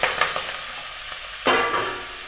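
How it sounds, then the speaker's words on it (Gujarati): Curry leaves and onion dropped into hot oil in a pan while cooking a Gujarati spring onion dish, a loud close sizzle with a sharp surge midway and stirring scrapes. "મીઠો લીમડો ડુંગળી નાખી દઈશું"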